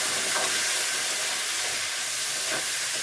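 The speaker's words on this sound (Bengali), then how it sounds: "ফুলকপিগুলো লাল লাল করে আমি ভেজে নিয়েছি" Cauliflower pieces fry in oil previously used for frying fish, a loud, continuous sizzling hiss heard up close with no pauses.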